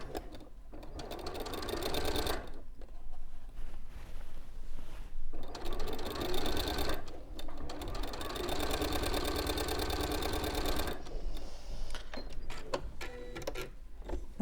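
A sewing machine stitches fabric with a steady mechanical whir. It runs in long stretches with a few brief pauses in between, and it sounds close and fairly loud.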